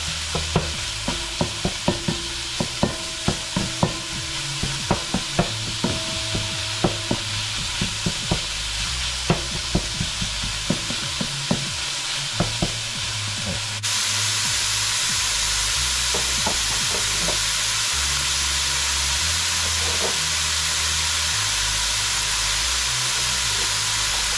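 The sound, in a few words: egg roll filling frying, stirred and broken up with gadget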